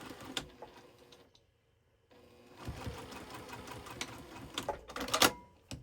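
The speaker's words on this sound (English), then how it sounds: "So I'm going to sew it here." A sewing machine stitches fabric for a mini fat quarter basket in close, rapid mechanical bursts, pausing briefly before running again with louder clattering toward the end, no talking.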